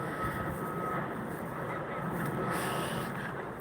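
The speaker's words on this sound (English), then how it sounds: "I don't know if you can hear that plane above. It's quite low now" Low-flying airplane passing overhead in a park in Hertfordshire, a soft, continuous broadband rumble that stays fairly even throughout, faint and distant in level.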